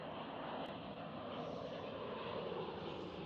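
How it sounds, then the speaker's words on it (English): KLM Cityhopper Embraer E195-E2 jet at Schiphol, a steady broadband engine roar holding at an even, moderately distant level throughout with no voices. "KLM Cityhopper is already up and going."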